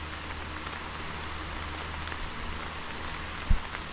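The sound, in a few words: heavy rain pouring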